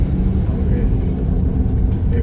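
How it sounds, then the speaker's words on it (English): A big truck rumbles along a road under construction in western St. Thomas, Jamaica, a loud continuous low engine drone with voices talking over it. "What a big truck there coming up"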